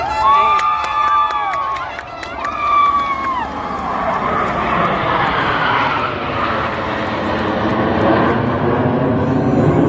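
Indian Air Force aircraft roar overhead at the 2024 air show on Marine Drive, Mumbai, a loud sustained jet rumble swelling across the sky above a large outdoor crowd with scattered cheering.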